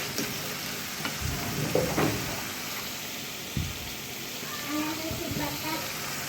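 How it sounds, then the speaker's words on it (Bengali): Shrimp frying and being stirred in a pan with ginger-garlic paste and ground spices, a steady sizzle broken by scraping stir strokes, while people talk nearby. "এই যে আদিলা চিংড়ি মাছ ভুনা করতেছে।"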